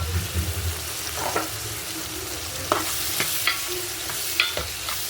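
Vegetables with turmeric and tomato pieces cook in a pan and sizzle steadily up close, broken by a few scraping stirs of a spoon.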